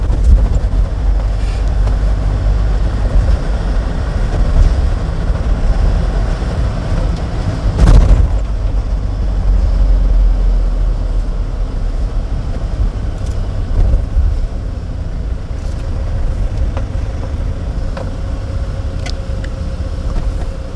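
A car engine runs loudly and continuously during a manual-transmission driving lesson, a heavy low drone heard from inside with a sharp thump partway through.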